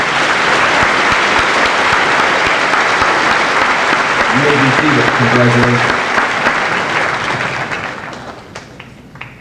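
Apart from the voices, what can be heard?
audience applause for students at a school assembly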